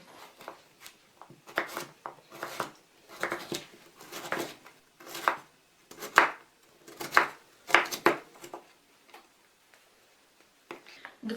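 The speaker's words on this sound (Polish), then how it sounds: "No a selera pokroję w kostkę." Knife dicing celery on a cutting board in a home kitchen, a quiet series of irregular, crisp taps in short bursts with brief pauses, close and alone.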